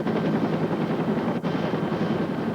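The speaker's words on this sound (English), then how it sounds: "The helicopter came in." A helicopter arrives, its dense rotor chop and engine roar loud and continuous throughout, close and unbroken, with no voices over it.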